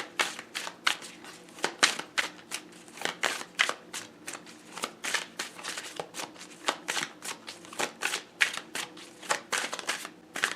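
A deck of tarot cards is shuffled by hand, producing a long run of quick riffling bursts and soft papery flutters in a steady rhythm close to the listener.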